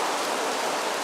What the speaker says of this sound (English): Rain causing delays for back-to-back days here at the Indianapolis Motor Speedway.